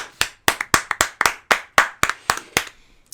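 Roughly a dozen separate hand claps in a fairly steady rhythm, each sharp and close, with a couple of quick doubled claps along the way, played alone with no talking.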